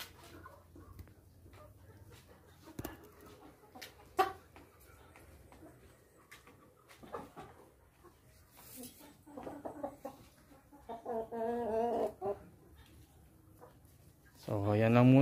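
Rhode Island White heritage chickens on a free-range farm cluck and call intermittently, moderately near, with other fowl sounds and background noise, growing louder toward the end.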